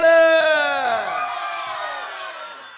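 A crowd at an outdoor village stage drama with dance in Tamil Nadu cheers and shouts loudly together, a sustained roar of raised voices that starts strong and slowly fades.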